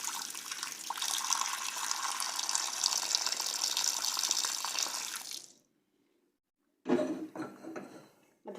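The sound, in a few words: water poured into tagine cooking pot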